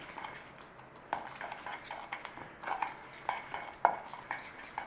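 Powdered onion, garlic, paprika, salt and pepper are mixed in a bowl with a utensil, soft scraping and a few light metallic taps against the side, quiet and close.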